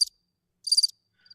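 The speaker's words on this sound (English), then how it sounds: "Where's the cricket sound effect?" Cricket sound effect: two short bursts of high, clear chirping followed by a faint third trill, with silence in between.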